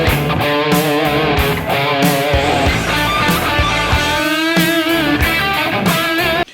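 A distorted electric guitar plays the next phrase of a song's solo, a fast run of picked notes and bends that is loud and continuous for several seconds, then cuts off abruptly.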